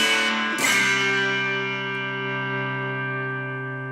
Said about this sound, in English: All right, now you're hearing the Vox.